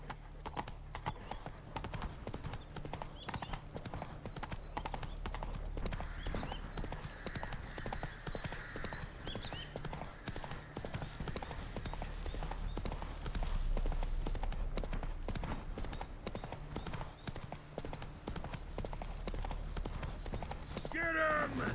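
Hoofbeats of the horse Roach galloping in a video game, a steady rapid clip-clop running throughout at a loud, close level over a low rumbling game soundtrack, with a brief whinny and faint voices.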